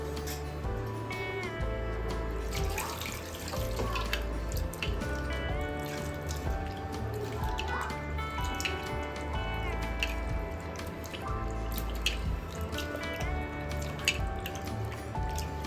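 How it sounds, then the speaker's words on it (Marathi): Prawns and fish such as bombil and bangda being rinsed under running water, a continuous splashing and dripping with clinks of the vessel, close and steady throughout. "आता आपण ते धुवून घेणार आहे. 2 ते 3 वेळा मी स्वच्छ धुवून घेते."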